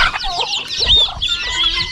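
Close, loud, overlapping clucks and squawks come from chickens kept with guinea fowl, ducks, geese and turkeys at a farmyard, a busy chatter of short calls with no talking.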